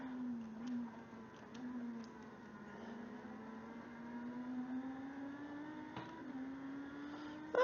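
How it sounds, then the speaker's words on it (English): A race car engine in the sim racing game Automobilista 2 holds a steady, moderately loud drone whose pitch climbs gradually as it revs, with a brief sharper burst near the end. "Don't know what this car's meant to sound like, but it sounds great"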